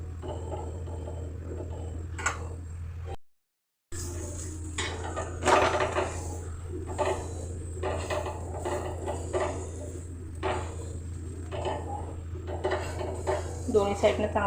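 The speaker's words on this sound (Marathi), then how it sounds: "दोन्ही साईडने मी चांगलं तूप लावून घेते आणि खरपूस असं चांगला भाजून घ्यायचा आपण" Potato paratha roasting on a pan with ghee, heard as a low steady hum under intermittent clinks and scrapes of a spatula against the pan, with a brief gap of silence early on.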